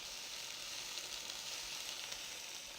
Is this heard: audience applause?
no